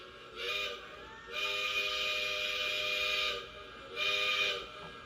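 Lionel model train locomotive whistle raised to a higher pitch, giving a short toot, then one long sustained blast and another short toot, bright and breathy, close and alone without speech.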